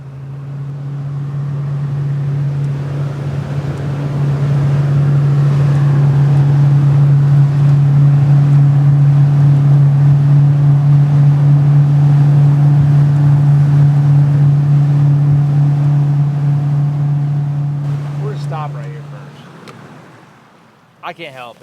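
A river jet boat powers along with a loud, steady engine drone that holds for about twenty seconds before easing off, with some water wash underneath and voices in the background.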